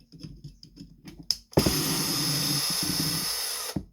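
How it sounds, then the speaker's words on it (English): A power screwdriver or drill backs screws out of a Traxxas TRX4 RC rear axle, first a few short clicks, then a loud, steady whirring run of about two seconds at close range. "So we'll pull these screws out."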